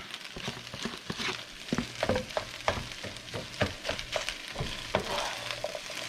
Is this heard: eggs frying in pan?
yes